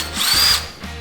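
A power drill whirs for about a second as it tightens bolts on a Mototec X1 110cc kids' dirt bike during assembly. The sound is a loud, close, high-pitched burst.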